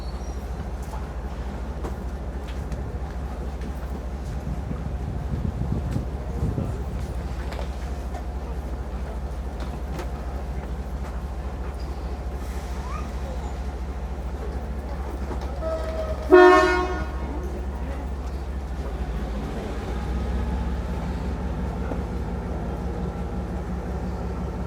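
At Galle railway station in Sri Lanka, a steady rumble of train and platform noise runs throughout. One short, loud horn blast rings out about two-thirds of the way through.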